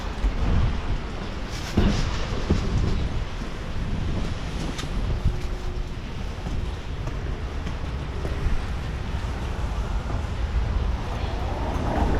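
Rain falls on a garden in wet afternoon weather, a dense, continuous roar of broadband noise with gusty wind buffeting the microphone and no talking.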